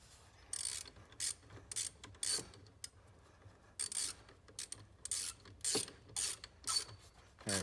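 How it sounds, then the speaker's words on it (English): A hand ratchet tightens the positive battery terminal on a Ford Escape, giving quiet, close clicking strokes in short bursts with brief pauses between them. "I'm going to tighten up the final positive terminal."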